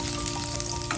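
Mustard seeds and garlic frying in hot oil, a dense, even sizzle with faint crackles, heard close and fairly quiet for a brief moment, without speech.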